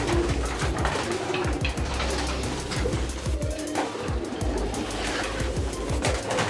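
Many pigeons cooing in a large four-storey pigeon loft in a Colombo house, a dense overlapping chorus of low coos and wing flutters, close and continuous.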